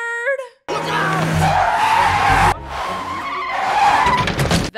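Cars skidding with long tire squeals in an animated movie chase scene, loud and sustained in two bursts after a brief voice and a short pause.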